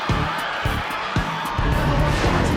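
Stadium crowd cheering at a Gladiators Nigeria television show in 2003, a broad, steady roar of many voices with some whoops and shouts, loud and continuous, with no clear talk over it.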